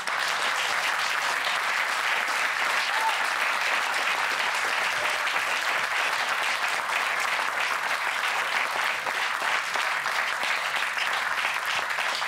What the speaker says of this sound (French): Et maintenant, vous pouvez tous l'applaudir